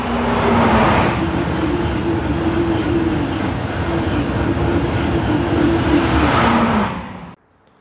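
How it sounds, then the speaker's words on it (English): East Midlands Railway Class 222 Meridian diesel train heard from inside the first-class carriage, a loud steady rolling rumble with a droning engine tone that fades away near the end. "the East Midlands Railway Workhorse, the Class 222 Meridian, in first class today"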